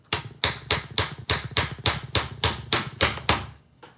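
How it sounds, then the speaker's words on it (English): A hammer taps hard and steadily on a resin mold about a dozen times, evenly spaced strikes with bright ringing attacks, close and loud with no talking. "Take a hammer maybe."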